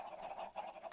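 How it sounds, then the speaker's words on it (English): Chickens in the video game Minecraft give faint, quick, nasal clucks that repeat several times in a short, pulsing run. "let's feed up some chickens here"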